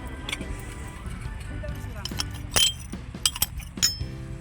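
Wine glasses clink lightly as they are handled at a secondhand market in Jeddah, a few scattered sharp chinks over a quiet background with traffic hum, while people talk nearby.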